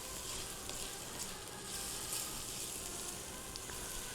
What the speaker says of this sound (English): I'm just keeping that moving because I don't want the garlic to fry in the oil